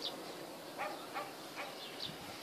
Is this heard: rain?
no